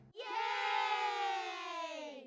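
A crowd in Assassin's Creed Mirage lets out a single sustained battle roar as it storms Dogan's villa, rising quickly and then holding strong until it fades near the end.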